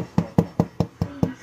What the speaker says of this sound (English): Now the top's got a good crunch